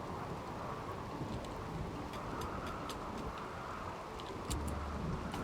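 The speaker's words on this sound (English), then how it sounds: "Oh no, not a thunderstorm." Steady heavy rain hisses throughout a video game thunderstorm, with a low rumble of thunder swelling near the end, constant and moderately loud with no talk.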